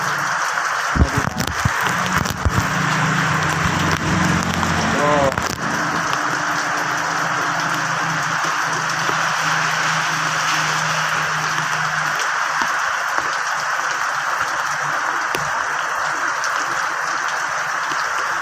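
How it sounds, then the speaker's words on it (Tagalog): Rain pouring from a roof gutter makes a loud, continuous splashing hiss from start to finish, with a low rumbling undertone in the first half. "Sarap maligo sa ulan."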